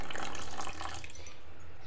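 Water gushes loudly into a mixer jar holding leftover cooked rice and a chilli, a close, steady pour that cuts off after under a second, leaving a quieter tail.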